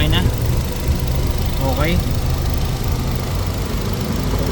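A 2019 Nissan Almera engine idles in a steady, even low rumble, close and continuous, with a person briefly speaking over it.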